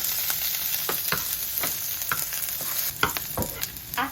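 Jalapeños fry in hot oil over medium-high heat, giving a dense continuous sizzle close by with regular scraping taps as they are stirred, louder bursts near the end, and no voices.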